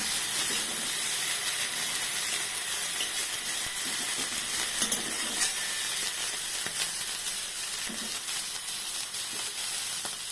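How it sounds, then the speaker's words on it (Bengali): Dried shrimp fries in hot oil, giving a dense, constant hissing sizzle that stays loud and even throughout, with faint crackles and no talking. "চিংড়ি মাছটা ভাজা হয়ে গেছে"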